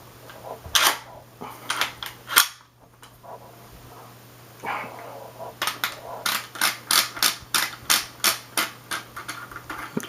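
A Remington 870 Express Magnum shotgun end cap being unscrewed, giving a run of sharp, evenly spaced ratchet clicks close up, with a scattered burst of clicks early on before a steadier rhythmic series.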